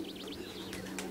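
Racing pigeons coo in short soft bursts close by, with a few chirpy calls over a steady low hum.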